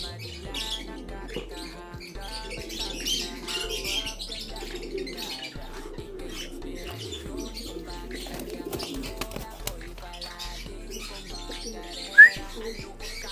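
Pigeons coo softly in low rhythmic phrases against outdoor background noise, with faint chirps scattered throughout and a single sharp high call near the end.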